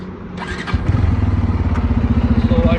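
A 2025 Bajaj Pulsar N250 motorcycle idles in neutral, its exhaust giving a steady, even low thump after a brief mechanical clatter as the engine settles, loud and close with no talk.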